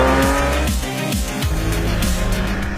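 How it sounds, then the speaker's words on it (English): A sports car on a test track crossing metal potholes at about 40 km/h over simulated rough street surface: a close, steady engine drone with repeated thumps and jolts as the wheels strike the bumps. "just like driving over the metal potholes at 40 kilometers an hour"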